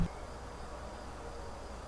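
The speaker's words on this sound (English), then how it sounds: "there's a bee in the shop" A bee buzzes steadily inside a workshop, a continuous close drone holding for about two seconds with no talk over it.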